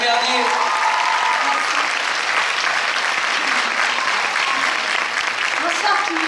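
A packed cinema audience at the Gaumont Champs-Élysées applauds actress Mélanie Bernier, loud continuous clapping sustained evenly throughout.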